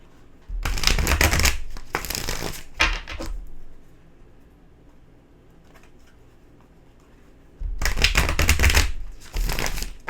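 Two bursts of tarot card shuffling, each a rapid riffling flutter lasting a couple of seconds, separated by a quiet pause.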